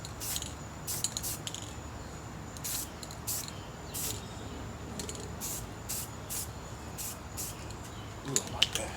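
Rattle-can spray paint being applied to a battle rifle, a series of short hissing bursts at regular intervals over a low background hum, with a quick rattle near the end.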